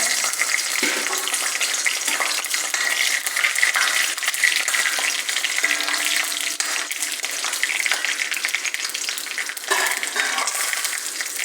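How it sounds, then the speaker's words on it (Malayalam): Mustard seeds and dried red chillies fry in hot oil for upma, a continuous loud sizzle with crackling pops and occasional stirring scrapes and no voices. "കടുക് പൊട്ടിയ ശേഷം വറ്റൽമുളകിട്ട്"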